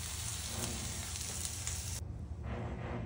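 Whitebait and egg pan-fry in hot oil with a steady, close sizzle and crackle that dips briefly partway through, then resumes, with no talking.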